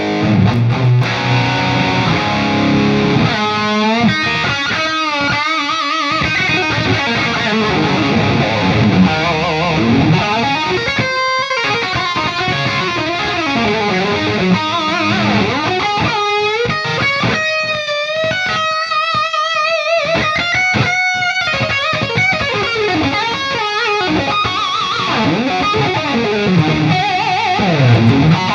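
Distorted high-gain electric guitar through a Mezzabarba Trinity EL34 amp: loud, continuous riffing and soaring sustained lead lines with bends, heavy saturation throughout, no voices.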